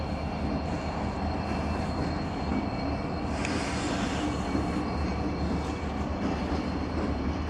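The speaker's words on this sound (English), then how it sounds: "And we got a train, yay!" A train rumbles past near a railway bridge in North Vancouver with a steady low roar and rattling wheels, continuous and fairly distant throughout.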